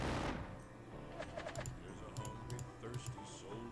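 Game gunfire from a Civil War strategy game set at Chickamauga and Stones River, heard as scattered sharp crackling volleys and clicks over a low rumble, steady and moderately loud throughout.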